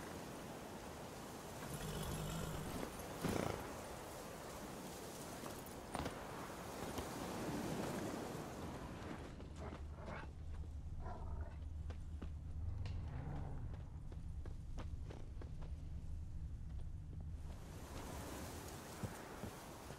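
Horse hooves clip-clop in The Witcher 3 at a moderate, steady pace against an outdoor backdrop of wind and distant surf, running continuously for about twenty seconds.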